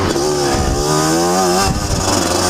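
A motorcycle engine on a break-in ride: a loud, steady close-up drone whose pitch climbs and then eases off, with no talking.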